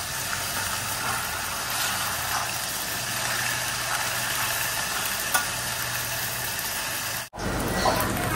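Potatoes and Malabar spinach frying in a pan with green chillies, a continuous even sizzle over a steady hum, with a brief break near the end.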